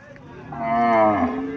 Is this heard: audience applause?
no